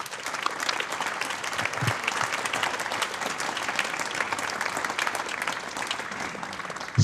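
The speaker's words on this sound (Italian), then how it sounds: "Un bel applauso" Sustained audience applause following an outdoor wind band concert at a castle, steady dense clapping throughout at moderate level with no voices over it.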